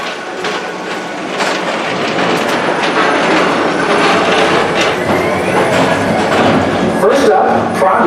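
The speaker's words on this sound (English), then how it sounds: "Don't worry, your express train keeps on rolling through the future, right by two of my favorite spots." Magic Kingdom PeopleMover ride train rolling along its elevated track at Walt Disney World, a steady loud rumble with clicking wheel noise and a faint squeal, with a voice speaking over it.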